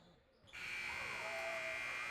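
A game-end buzzer sounds at a high school basketball game between Marion and Remington, a loud sustained electronic blare that starts half a second in and holds to the end over faint crowd noise.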